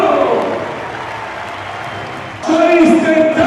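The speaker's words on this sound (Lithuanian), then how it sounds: "sirgalių plojimai" Fans clap at a Žalgiris basketball team presentation in Kaunas ahead of a Supercup game, steady broadband applause throughout, with an announcer's amplified voice speaking over it and the crowd noise swelling louder near the end.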